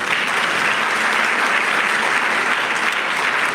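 Conference audience applauding at an investment expo in Botswana, a dense, steady wash of many hands clapping throughout, fairly loud and with no talk over it.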